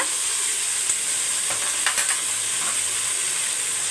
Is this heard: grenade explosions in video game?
no